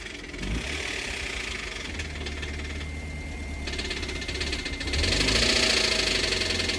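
A damaged BMW petrol engine runs with a rapid metallic knock from a failing connecting rod over a steady mechanical drone, growing louder and harsher as revs rise near the end.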